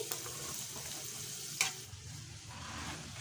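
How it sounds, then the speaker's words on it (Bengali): Soft frying sizzle of spices in oil for coriander leaf pickle, close by, with a brief clatter of stirring partway through, fairly quiet and steady. "আমার তেলটা অলরেডি আমার মশলাটা অলরেডি ভাজা হয়ে গেছে"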